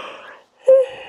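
A woman yawns during an evening prenatal yoga session, a breathy, drawn-out exhale, then a short pause, then a louder voiced, moaning stretch of the yawn that fades out, close and alone.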